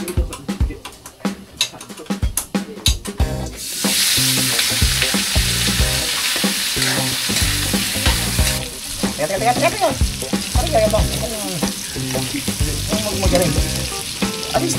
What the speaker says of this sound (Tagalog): Prito kami talong